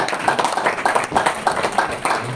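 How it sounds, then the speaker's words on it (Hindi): An audience at a talk claps in a steady, rhythmic pattern, each evenly spaced burst of hands landing about every quarter second, close and moderately loud. "इसके लिए उनके लिए भी तालियां होनी चाहिए।"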